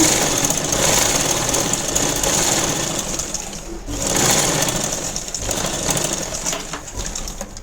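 A sewing machine runs in steady, rapid bursts, stitching along a folded blouse sleeve edge, close and continuous with a brief pause midway, with no talking over it.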